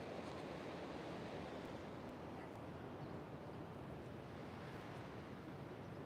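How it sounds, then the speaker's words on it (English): Steady, broad wash of Pacific Beach ocean surf, a continuous rumbling hiss with no distinct breaks, soft and somewhat distant, with light wind in the background and no voices. "But hey, listen to that ocean."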